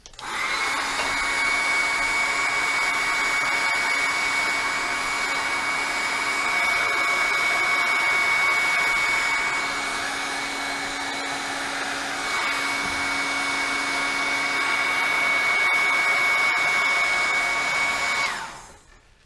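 A heat gun blows hot air over a PVC pipe fitting, a steady loud whooshing whine with a constant motor tone that swells and dips slightly before cutting off at the end, with no voices.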